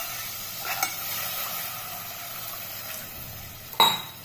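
A pan of sautéing ingredients gives a soft, steady sizzle near the mic, with a few scrapes of stirring and one sharp metallic clink near the end.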